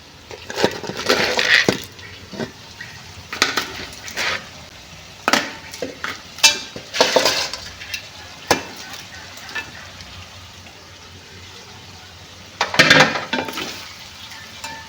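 Crab pieces tipped into a pan of softened tomato masala and stirred, giving scattered clatters, scrapes and sizzling bursts at close range, with a louder clattering flurry near the end.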